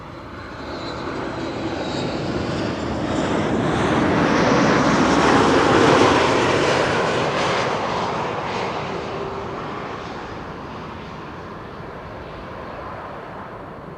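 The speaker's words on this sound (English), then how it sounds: "TUI Max 8 737 arrival from Ibiza next" A TUI Boeing 737 MAX 8 arriving from Ibiza passes with a steady, broad engine roar that swells to a peak midway and then slowly fades as the jet moves away, with no voices.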